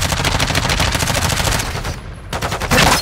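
Rapid gunfire in the video game Call of Duty Modern Warfare 2, dense and loud bursts rattling almost continuously, with a brief lull before the shots resume.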